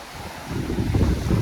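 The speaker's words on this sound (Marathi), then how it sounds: "जेव्हा समुद्र लाटांचा आवाज येतो" Sea waves surge onto the Konkan coast near Dapoli, a low rushing swell rising after a quiet start and mixed with strong wind buffeting, close and loud.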